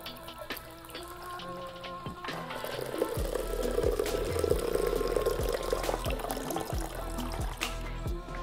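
Liquid pours in a thin steady stream as a Ciroc Crush cocktail is strained into a glass, trickling softly and close, with faint clinks and light bar handling noise around it.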